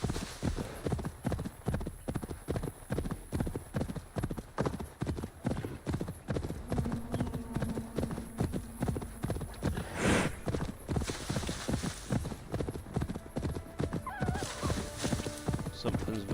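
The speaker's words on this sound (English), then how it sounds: "My trusty horse mount." A horse gallops in the video game Assassin's Creed Valhalla: Wrath of the Druids, with rapid, steady hoofbeats close by for the whole stretch, plus a brief snort or whinny partway through and a faint voice underneath.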